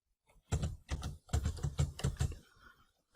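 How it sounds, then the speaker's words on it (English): Fingers type on a computer keyboard in a quick, close run of distinct clicks and key presses lasting a couple of seconds, ending with a pause and one final tap, with no voice. "now type the names of the tables"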